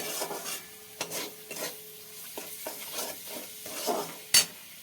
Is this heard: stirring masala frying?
yes